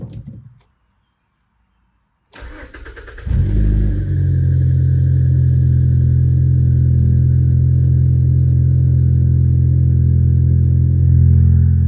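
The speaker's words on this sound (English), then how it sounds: "it's actually idling normally for the cold engine temp" A Mazda 3 with a 2.5L Skyactiv throttle body swapped onto its 2.0L engine cranks after a short silence, catches, and settles into a steady, loud cold idle with a low, even hum.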